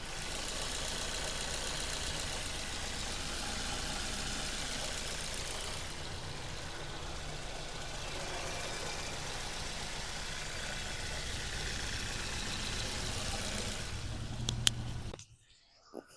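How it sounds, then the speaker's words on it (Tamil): The petrol engine of a 2011 Maruti Swift Dzire ZXi idles steadily with the microphone close under the bonnet, a constant even rumble that cuts off abruptly near the end. "இப்போ வண்டியோட இன்ஜின் சவுண்ட் எப்படி இருக்குன்றத மைக்கை பக்கத்தில் வச்சு காட்டுறேன்"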